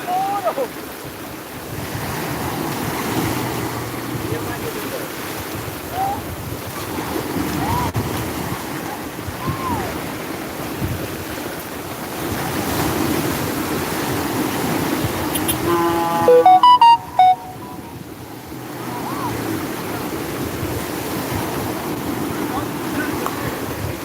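Waves roll in on the beach at Jumiang amid strong wind buffeting the microphone, a steady surf roar with a brief louder gust partway through, and a person talking over it now and then.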